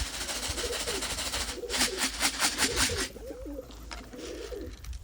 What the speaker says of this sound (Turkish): Kanatlarını sert çırpmaya başladı.